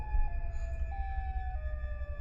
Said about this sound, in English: that's the classic Siren Head sound effect